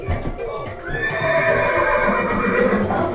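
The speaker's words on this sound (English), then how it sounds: "and the horse." A horse neighs loudly at an interactive farmyard exhibit, a long whinny rising and holding, with faint clip-clop and a voice speaking at the start.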